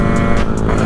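Sherco big bore motorcycle engine with an aftermarket exhaust pipe, a loud steady close-up drone that holds throughout with no talk.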